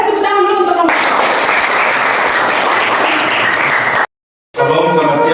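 A room of classmates applauds a student group after a teaching-practice presentation, dense steady clapping for several seconds that cuts off abruptly, with voices and talk on either side.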